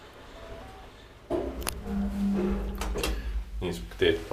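An old Kone traction elevator door in a Lahti apartment building is opened with a sudden mechanical clunk and rattle, followed by sliding and scraping noises and a faint hum, while someone talks nearby.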